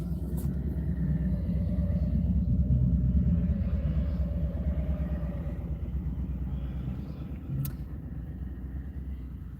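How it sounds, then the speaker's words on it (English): A low, steady engine rumble of passing motorcycles, sustained and fairly close, swelling slightly and then easing off. "I don't know if you can hear them going by"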